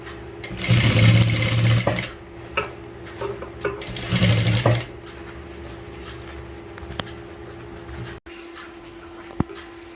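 A sewing machine stitches a fabric sleeve in two rapid bursts of running needle chatter, then falls quiet apart from faint handling clicks and knocks.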